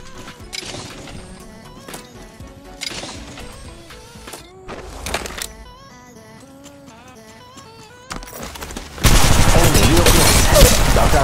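Rapid bursts of gunfire from Apex Legends gameplay crackle in short volleys over game sounds, ending in a sustained loud barrage of shots.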